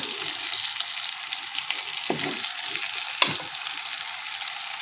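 Continuous hiss of food frying in a pan, close and steady, with two low thuds and a brief clatter partway through.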